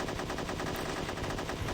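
Rapid automatic gunfire trading shots with a helicopter in the video game Unearthed: Trail of Ibn Battuta, a dense, continuous rattling burst that stays loud and steady throughout with no talking.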